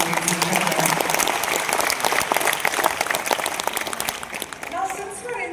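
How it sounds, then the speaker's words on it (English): A seminar audience at a SEBI and NISM event breaks into warm applause, loud close clapping that fades toward the end as a speaker's voice returns. "warm round of applause, ladies and gentlemen."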